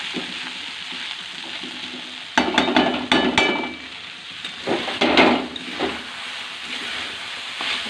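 Spices and partly boiled potatoes sizzling and frying in a pan in a home kitchen, a steady close hiss that swells into louder crackling bursts as the food is stirred.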